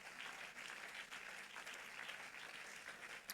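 A church congregation claps in steady, dense applause for a few seconds, heard at a distance with an even, continuous texture and no voices standing out.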